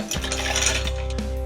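Ice cubes tumble into a cocktail mixing glass for a Manhattan, giving one bright clatter of clinks that rings on near and fairly loud for over a second, with no talk.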